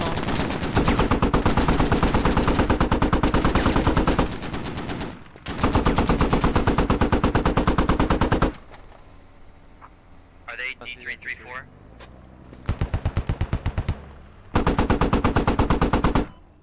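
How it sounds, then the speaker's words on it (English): An MG3 machine gun in a tactical shooter game fires long sustained bursts, very loud and rapid, then short bursts after a pause, with brief radio-like voice chatter between them. "I hear an MG3."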